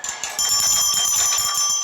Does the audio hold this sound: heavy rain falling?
no